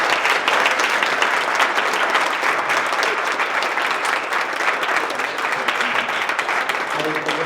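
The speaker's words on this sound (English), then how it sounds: "Big round of applause for everybody." An audience at a web series festival creators Q&A claps loudly and continuously, a dense sustained wash of applause that eases slightly toward the end, with voices beneath.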